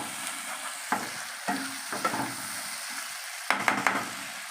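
Spice paste for chicken tikka curry fries in a pan, a soft steady sizzle broken by several sharp scraping and clattering stirs, the loudest burst near the end.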